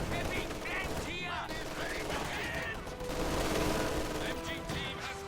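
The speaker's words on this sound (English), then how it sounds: "Small arms fire." Small arms fire in a real-time strategy battle defending a headquarters, steady crackling rifle and machine-gun bursts mixed with shouted voices and chaotic combat noise, loud and continuous throughout.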